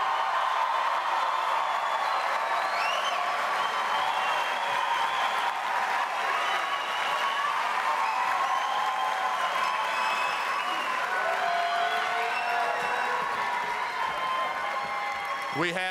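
A crowd at a high school commencement ceremony applauds the graduating class of 2018 in a sustained, even wash of clapping that lasts throughout, with some voices and cheers mixed in.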